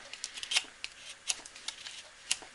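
Knife blade shaving curls off a piece of oak, giving a series of crisp, dry scraping clicks in irregular bursts, fairly faint and close with no talk.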